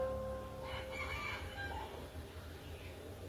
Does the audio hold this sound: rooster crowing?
yes